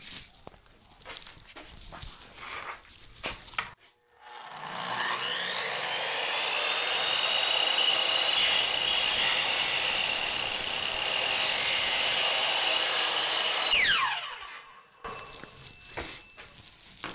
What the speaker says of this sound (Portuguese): Então é só você travar bem para cá e descer a serra.